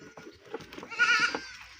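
A Teddy breed goat on a goat farm lets out a short, close bleat, with faint shuffling and farm noise around it and no talking.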